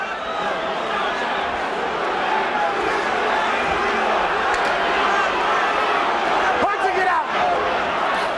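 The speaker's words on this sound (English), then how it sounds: "Enormous crowd here at the Hilton in Las Vegas" Large crowd at the Mike Tyson vs Frank Bruno heavyweight boxing match at the Las Vegas Hilton in 1989, a steady, dense roar and murmur filling the arena throughout, with a few sharp shouts rising above it.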